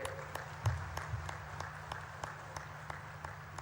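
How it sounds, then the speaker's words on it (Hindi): Applause at a university convocation ceremony attended by the Uttarakhand governor, heard as faint, distant, rhythmic clapping with regular beats over a low electrical hum. "ताली मारिए जोर से"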